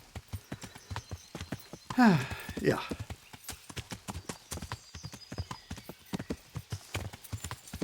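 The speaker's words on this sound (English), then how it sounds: "check out how easily the horse goes through this gate in the wall right next to it." A horse's hooves clip-clop in a steady trotting rhythm through a gate in a wall in a video game, with a brief whinny-like burst early on and a short spoken word.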